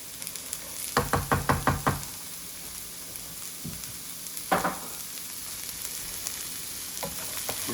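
Chopped celery hits a hot pan for holiday stuffing, setting off a quick burst of sizzling pops and stir scrapes, then a softer continuous frying hiss with occasional clatter, nearby and alone.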